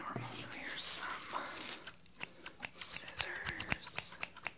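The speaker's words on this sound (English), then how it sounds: "scissors" Crisp scissor snips repeat in a quick, uneven series up close, following a soft whispering voice at the start.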